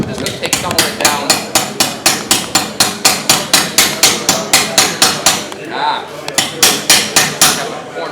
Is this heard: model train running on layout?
no